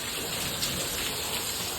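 Steady rain falls in a continuous even hiss, close and moderately loud, with no voices over it.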